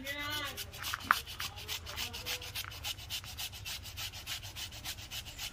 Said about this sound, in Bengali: এটা প্রথমে এরকম ঘষে তারপরে সিলে বাটতে হবে।